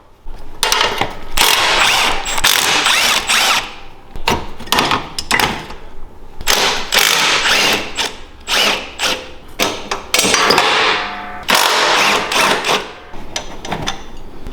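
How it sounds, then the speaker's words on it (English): A 14 mm socket wrench loosens the shock bolts on an MB200 Trialmaster mini bike, giving loud, close bursts of metallic ratcheting and clanking separated by short pauses. "So this is a 14 socket and wrench to pull these shocks off."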